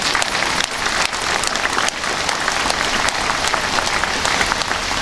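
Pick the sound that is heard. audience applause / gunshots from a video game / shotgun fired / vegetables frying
audience applause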